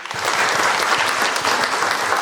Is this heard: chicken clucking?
no